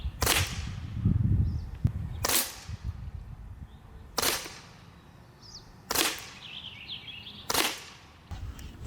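Sig Sauer P320-X Carry .177 blowback semi-auto CO2 BB pistol fired at a target outdoors, five or six sharp cracking shots spaced roughly two seconds apart, each with a short ringing tail, no talking.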